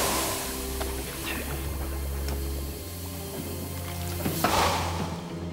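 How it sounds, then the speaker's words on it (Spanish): A piece of hot forged metal is plunged into a bucket of water, producing a broad, rushing hiss that swells near the end over a low rumbling background. "Introduce el metal dentro de un balde con agua"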